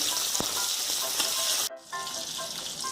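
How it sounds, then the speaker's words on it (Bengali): Pointed gourds fry slowly over low heat in oil, a close continuous hiss and crackle, briefly cut near the middle before the sizzle resumes; no voices. "পটলগুলো কম আঁচে লাল করে ভাজতে একটু সময় লাগবে"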